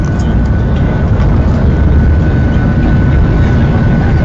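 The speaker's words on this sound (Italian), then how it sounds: "Qui l'aereo si muove." Inside the cabin of an airliner climbing after departure, the engines give a loud, steady, broadband roar with a deep rumble, continuous and unchanging throughout, with no talking heard.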